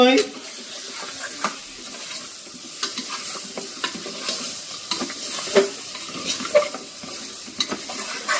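Chicken and eggs stir-fry in a pan, a soft continuous sizzle broken by repeated sharp clinks and scrapes of a utensil against the metal, with faint talk in the background.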